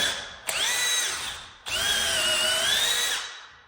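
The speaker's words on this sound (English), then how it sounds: "drilling into this timber" A Milwaukee hammer drill, hammer setting off, whines as it bores into timber in two bursts, the motor pitch rising and settling, loud and close with a short pause between.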